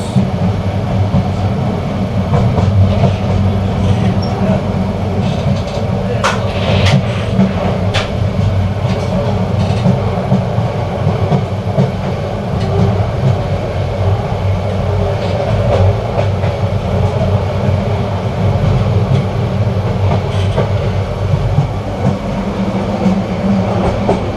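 The Chattala Express rumbles past at Akhaura junction in Bangladesh, heard from aboard a passing train: a loud, steady roar of wheels and carriages with faint clatter throughout, continuous and near, with no talking.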